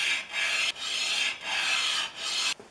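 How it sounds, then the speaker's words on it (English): An aluminum depth stop from a Stanley No. A78 duplex rabbet plane is rubbed back and forth on a flat lapping surface, giving close, even rasping strokes in a steady rhythm with no talk. "I'm going to clean them off and flatten the surfaces on my lapping station."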